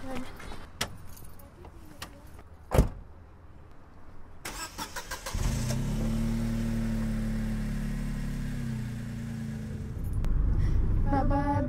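A car engine starts after the jangle of keys and a door thump, then idles steadily at close range, its low rumble swelling briefly near the end; a voice speaks faintly early on.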